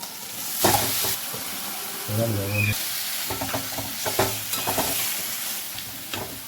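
Spice paste frying in a pan with chopped tomato for a banana-flower dish, a steady close sizzle with repeated scrapes and stirs, and a brief lower-pitched stretch partway through.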